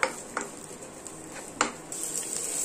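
Cut onion sautés in hot oil in a pan, giving a soft continuous sizzle broken by a few sharp clicks of a utensil against the pan and a brighter hiss toward the end, with no voices.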